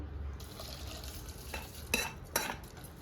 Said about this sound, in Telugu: ఈ పచ్చడికి అయితే తాలింపు వేస్తున్నాను